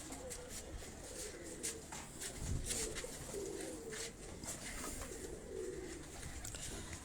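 Pigeons at a breeding setup coo in low, repeated bursts, with a faint scatter of clicks and rustles around them and no talking.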